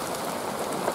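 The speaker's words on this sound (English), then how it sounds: "I'm getting wet, I'm still in the rain." Steady rain falls outdoors in a farm field, a dense even patter of drops on surfaces close around, continuous and moderately loud with no talking.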